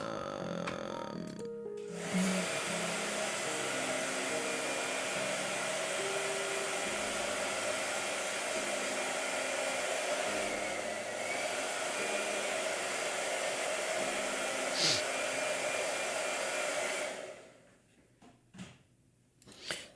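A blow dryer runs continuously at close range, a loud steady whooshing roar with a faint whine, lasting most of the stretch before cutting off and leaving a few scattered knocks.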